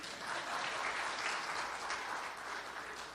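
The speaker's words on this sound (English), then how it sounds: "please give them a round of applause." Steady audience applause fills a hall at an international finance summit, a dense, even wash of clapping held at moderate loudness throughout with no voices over it.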